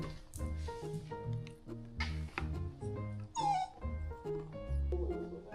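A puppy gives soft, high whimpers and yips in short bursts at close range, nearly buried under louder background music with a steady beat.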